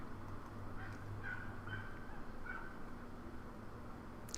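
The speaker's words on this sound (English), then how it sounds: "That was the Canada goose that's flying around outside." A Canada goose honks while flying around outside, a few nasal calls heard faint and distant through a steady background hum.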